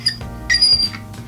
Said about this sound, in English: hand tighten this pretty much till you hear a squeak.